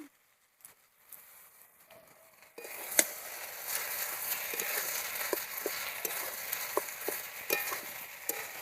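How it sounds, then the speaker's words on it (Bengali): Salt, turmeric and ground spice paste frying in a pan for a banana-stem (thor) ghonto, starting quiet, then a steady close sizzle with occasional stirring scrapes and clicks, no talking. "দিয়ে সবগুলো আমি ভালো করে ভেজে নেব।"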